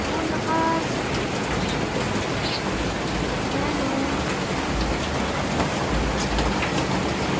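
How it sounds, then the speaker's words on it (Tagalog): Heavy typhoon rain pours steadily and loudly, a dense unbroken hiss filling the whole stretch with no pauses. "Nakalakas po ng ulan."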